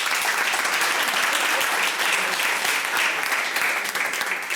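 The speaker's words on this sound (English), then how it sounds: "Please do give her another round of applause." Loud, dense audience applause at a Hall of Fame induction ceremony for a South African road running legend, an unbroken ovation for the minister after her speech, heard alone.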